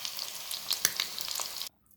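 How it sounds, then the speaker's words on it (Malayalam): Small pieces half-frying in rice bran oil sizzle steadily with crackling pops and a brief stir, loud and close, before cutting off abruptly to near silence. "ഇത് നമ്മൾ ചെറിയ പീസുകളാക്കിയിട്ട് നമ്മൾ ജസ്റ്റ് നമ്മുടെ റൈസ് ബ്രാൻ ഓയിൽ ചെറുതായിട്ടൊന്ന് ഒരു ഹാഫ് ഫ്രൈ ചെയ്തെടുക്കണം"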